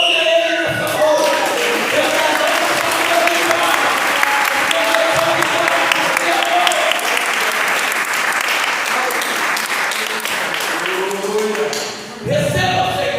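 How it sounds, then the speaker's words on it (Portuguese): A church congregation at a family worship service bursts into sustained applause, a dense, loud roar of clapping hands lasting over ten seconds, with a voice carrying over it before it fades out. "Então, aplaude Ele nessa hora."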